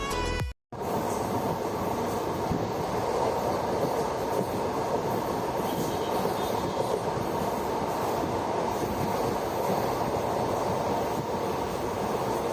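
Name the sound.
Kannur Executive Express train running on rails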